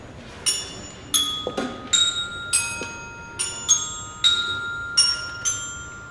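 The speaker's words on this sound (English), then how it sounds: "First, the bells." Bright metallic orchestra bell tones played by students ring out one by one at a steady pace, each struck note sustaining and overlapping the next, fairly quiet and close.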